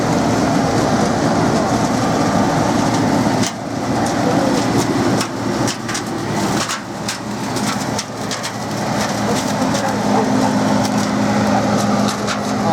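Loud, steady mechanical roar of a combine harvester threshing corn, with continuous rattling and clattering throughout and no talking.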